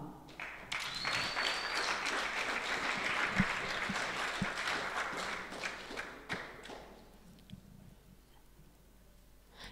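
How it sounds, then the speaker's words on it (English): Applause from an audience at a Kenya film summit, greeting the winner of a best vernacular film award; sustained dense clapping with scattered thumps that gradually thins out toward the end. "Let's give her a round of applause."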